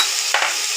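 Ginger paste hitting hot oil in a frying pan, a brief loud hiss that swells once, near and alone.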